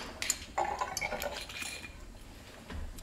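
Wine is poured from a bottle into a glass at a vineyard, a soft trickle with a few faint clinks, quiet and close, with no talking.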